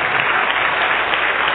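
A church congregation claps in sustained, dense applause at an evangelical sermon, loud and steady throughout with no pause and no speech over it.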